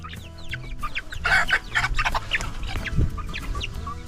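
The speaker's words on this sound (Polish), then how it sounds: "Zobaczcie, kogut." Bantam Cochin chickens cluck repeatedly close by, with short overlapping calls from several birds and a rooster among them, set against a steady low farmyard hum.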